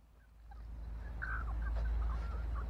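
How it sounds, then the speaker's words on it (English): Big black Australorp hens give soft, scattered clucks and murmurs against a low steady background rumble, with a few brief calls rising midway through. "the two Australorps, the big black hens"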